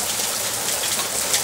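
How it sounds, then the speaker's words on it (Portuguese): Steady rain falls in a rural village in Vitória da Conquista, Brazil, a continuous close hiss of drops with no pauses and no voices. "Segunda chuva do dia."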